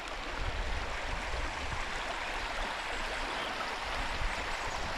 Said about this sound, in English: there's just a slight trickle of water going over boulders, so you've got that nice therapeutic sound of the running water